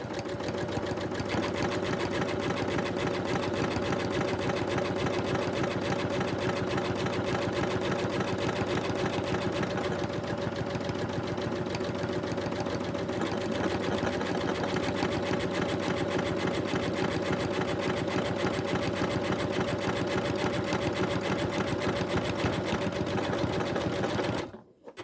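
A MC6700P sewing machine stitching a buttonhole with a buttonhole foot, a loud, steady mechanical whir and rapid needle chatter running without a break, then stopping abruptly at the end.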